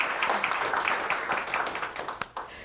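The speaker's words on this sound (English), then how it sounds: "Please give a round of applause to Miss Terry Fontaine." Scattered clapping from a crowd at an awards ceremony, a steady patter of many hands with a couple of sharper claps near the end.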